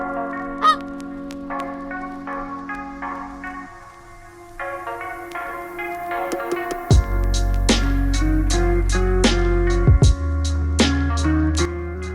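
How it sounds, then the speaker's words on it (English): A duck quacks and honks in several loud, close calls over a backing of music, with the calls grouped in the second half. "You got a duck coming right behind you,"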